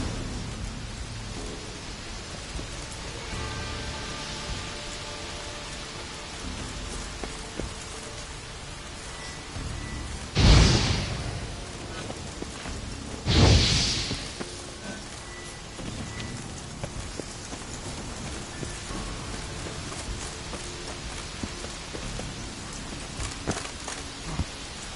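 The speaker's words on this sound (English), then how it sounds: "Looks like rain." Steady rain hisses across the scene in The Witcher game, broken by two sharp, loud thunderclaps a few seconds apart midway through.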